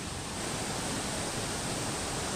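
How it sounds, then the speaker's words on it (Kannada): The waterfall at Rani Jhula in Bhaktapur pours as a constant, dense roar of rushing water. It is steady and broad with no voices. "ಫೈನಲಿ ಫಾಲ್ಸ್ ಹತ್ರ ಬಂದಿದ್ದೀರಿ. ನೋಡಿ ಇದೇ ವಾಟರ್ ಫಾಲ್ಸ್."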